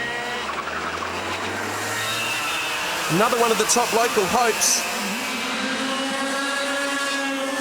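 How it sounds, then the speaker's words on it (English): Small Yamaha race cars in a street sprint heat scream down Elizabeth Street toward Glasgow Road at high revs, engines droning and rising past under a commentator's steady talk, with a louder surge as they pass mid-clip. "these little Yamahas scream down Elizabeth Street towards Glasgow Road, and they're really working these engines over hard"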